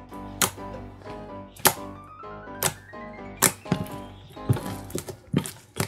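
Fluorescent homemade acid-pink slime, made without glue, being stretched and worked, giving sharp, irregular clicks and crackles with a few louder snaps, close and fairly quiet, with no talking.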